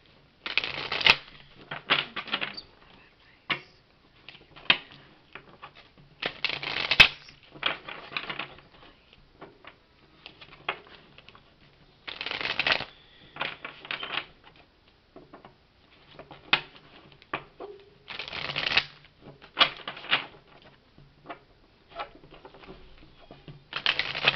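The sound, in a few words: shuffling Romance Angels oracle cards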